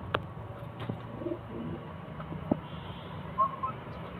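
Soft, low pigeon cooing murmurs in the background, a few faint calls under quiet ambient noise with occasional light clicks.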